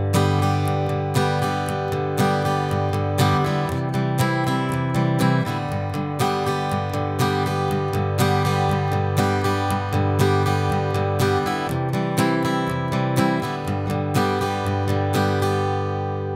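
An acoustic guitar strums the verse chords of a song, with a continuous, even rhythm at close range and no singing or talk.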